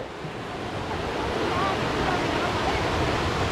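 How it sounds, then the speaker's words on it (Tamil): Water runs steadily on a hillside, a continuous broad rush with a windy, surf-like texture that holds at an even level throughout. "தண்ணி ஓடுது."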